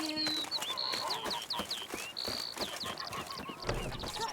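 Goose in the video game Witcher 3 giving repeated honks in quick bursts over busy game ambience with footsteps, moderately loud and close.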